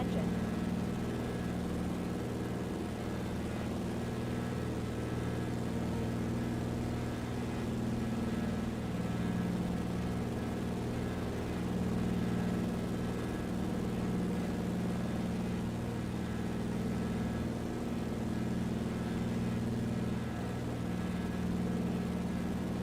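Old-school propeller plane engine in the Microsoft Flight Simulator 2024 video game, a steady, even droning hum that holds unchanged for the whole stretch, loud and close.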